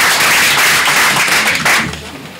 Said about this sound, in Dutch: Mag ik applaus voor Linde Susanne?